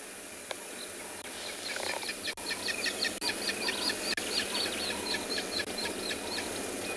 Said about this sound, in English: And that's a Wahlberg's eagle.